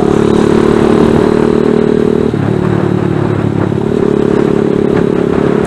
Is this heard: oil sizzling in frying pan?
no